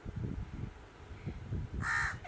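A crow caws near the end, one or two loud, harsh calls after a stretch of faint low background rumble, fairly close and clear.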